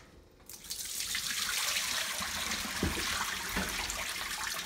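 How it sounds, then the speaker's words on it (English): Water splashes out in a steady gushing pour after a brief quiet start, close by, with a couple of heavier sloshes near the end. "now we will take it and dump the water out"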